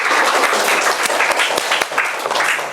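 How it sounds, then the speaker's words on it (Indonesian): A high-school class applauds a group presentation, a dense, loud burst of many hands clapping close by that holds steady for a few seconds. "Kita berikan lagi tepuk tangan yang sukses."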